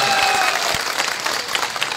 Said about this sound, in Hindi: आप तालियां बजाकर उनका स्वागत कीजिए